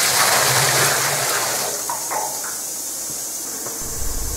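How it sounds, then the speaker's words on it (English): A plasma cutter slices through a thick piece of bronze at low air pressure above a barrel with water in the bottom, giving a loud, steady, rushing hiss that holds throughout and eases slightly toward the end. "This plasma cutting was done using a thick piece of bronze with the air pressure set low."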